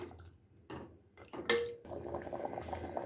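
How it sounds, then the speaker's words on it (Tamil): A pot of mutton curry bubbles softly and steadily at low volume, preceded by a brief clatter and a short electronic tone. "நல்லா கொதிக்க ஆரம்பிச்சிருச்சு"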